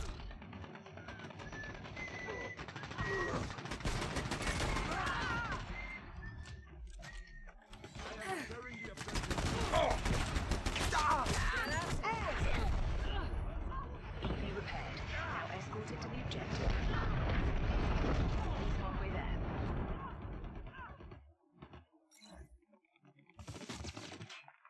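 Gunfire rattles through a round of the video game Dirty Bomb, with bursts of shots and mechanical clicks coming and going over about twenty-five seconds at moderate level, thinning out near the end.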